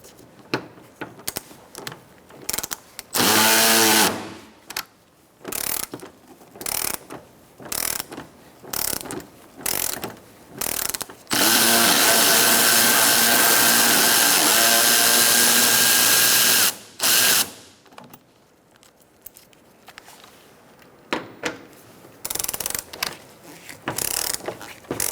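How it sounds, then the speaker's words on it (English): A hand socket ratchet loosens 10mm bolts from the grille of a 2014-2019 Kia Soul, giving close, clicking bursts of pawl chatter, with one long continuous run of clicking in the middle and shorter spins around it. "Use a 10mm socket and remove this bolt and also the one on the other side."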